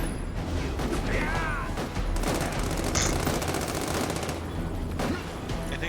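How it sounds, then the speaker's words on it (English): Gunfire in the video game The Amazing Spider-Man 2, a dense, steady stream of rapid shots and fusillade bursts filling the scene, with faint voices mixed underneath. "Gunfire."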